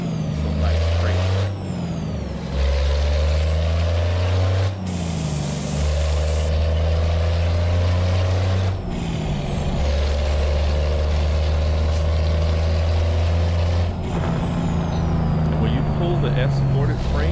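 Loud Cummins M11-powered Peterbilt 389 with an 18-speed and retarder in American Truck Simulator, a deep droning engine rising and falling through gear changes, with hissing air-brake bursts and someone talking over it throughout.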